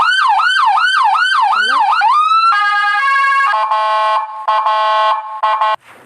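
A loud electronic siren wails in quick rising sweeps, then switches to a steady tone and finally to choppy, stuttering bursts before cutting off.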